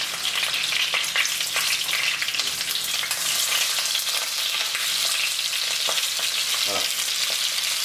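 Duck breasts searing skin-down in a dry frying pan with no added fat, a loud continuous sizzle with scattered crackles and spatters, plus a brief scrape near the end; one short spoken word.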